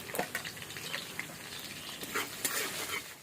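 Garlic and green chilli frying in hot oil in a pan, with a light steady crackle and scattered pops, close and continuous, while egg noodles with home-grown vegetables are being prepared.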